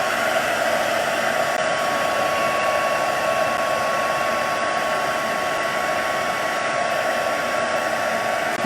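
A heat tool blows steadily to dry layered paint on a handmade flower card, a constant loud whooshing hiss with a faint tonal whine, unbroken throughout.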